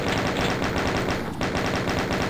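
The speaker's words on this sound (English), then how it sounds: "so just going to switch over to the chain gun" Rapid chaingun fire in the video game Final Doom, a dense, loud, steady stream of gunshots with a brief dip in the middle of the burst.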